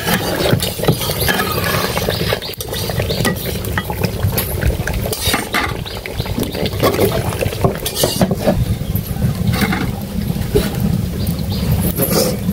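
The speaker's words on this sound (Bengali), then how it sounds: "তো এক চুলায় হচ্ছে মাংস দিয়েছি, আরেক চুলায় পিঠা পিঠা ভাজা হইতেছে, চিরুটি পিঠা।" Meat cooks on one stove while chitoi pitha fry on another; a steady sizzle runs under repeated stirring scrapes and clinks of utensils against pans, close and loud.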